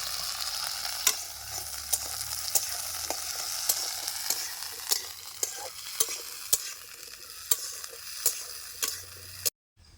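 Drumstick stems with turmeric and salt frying in hot oil, a steady close sizzle punctuated by regular sharp clicks of a utensil stirring the pan, ending abruptly in silence.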